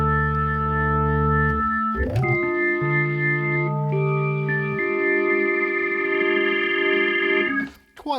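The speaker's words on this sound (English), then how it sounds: "This is just a regular algorithm that you know outputs every single operator, which is just tuned to harmonics like you would find on organ drawbars." Korg opsix FM synthesizer voiced as a drawbar organ, every operator tuned to harmonics, plays sustained chords with slight distortion, changing at about two seconds and again near five, loud and steady before a sudden cutoff at the end.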